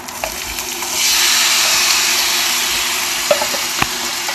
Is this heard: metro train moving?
no